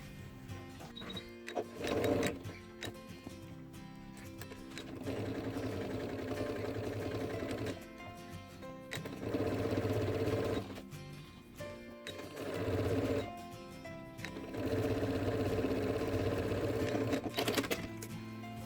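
A sewing machine runs close by in bursts, stitching a straight seam through two aligned layers of fabric for a pencil case, with steady whirring runs separated by brief pauses.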